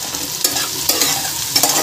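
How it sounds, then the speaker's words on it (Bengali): Green, yellow and red capsicum frying in a pan, a close sizzle broken by three sharp scraping stir strokes. "এগুলো আমি একটু ভাজা ভাজা করে নেব"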